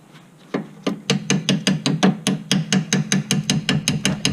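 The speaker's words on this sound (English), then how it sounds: "a quick little left tap with the hammer" A hammer rapidly tapping on the rear brake of a Nissan Rogue, a steady run of about fifteen close, solid knocks speeding up slightly, loud and alone without speech.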